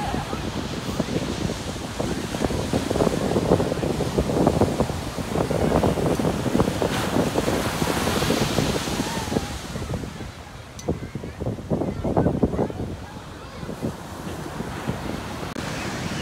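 Ocean waves washing onto a beach, a continuous rushing surf mixed with heavy wind buffeting the microphone, with people talking faintly in the background.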